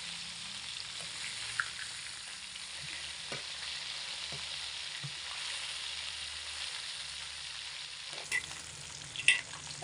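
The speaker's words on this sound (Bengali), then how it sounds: "এবার মাছগুলোকে আমি একটু উল্টে দেব।" Tilapia fish pieces frying in oil in a pan, a quiet, steady sizzle with a few soft taps and knocks as the pieces are turned over, and a louder clatter near the end.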